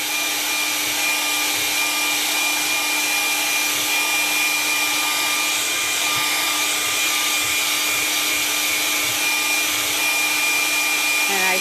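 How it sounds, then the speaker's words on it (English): A hair dryer on medium heat drying paint gives a continuous steady whirring blow with a faint tonal whine, unbroken and close throughout. "your hair blower, don't put it at high heat"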